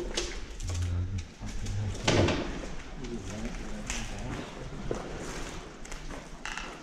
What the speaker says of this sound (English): Fucking pigeons.